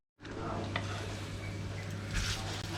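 Gnocchi toast in a frying pan for a home lunch, giving a soft, steady sizzle that starts abruptly and runs close and quiet, with a few faint scrapes and clinks of utensils.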